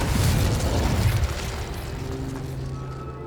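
Incendio and Confringo spells burst in Hogwarts Legacy with a loud, full-bodied fiery blast that rumbles and slowly fades, leaving a low sustained tone behind.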